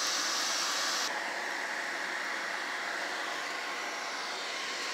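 Constant loud whooshing of a hair dryer blowing air through dryer hose into a cast iron skillet forge, a steady broadband rush with a slight shift in tone about a second in.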